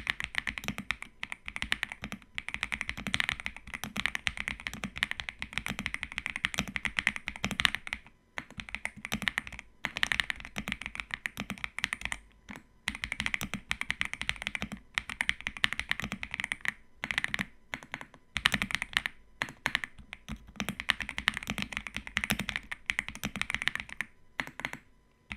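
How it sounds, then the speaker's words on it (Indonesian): Rapid typing on a Yunzii B75 wired mechanical keyboard, a dense run of close, crisp key taps with brief pauses, heard alone without talk. "Coba kita dengar suara tapping testnya sebagai berikut."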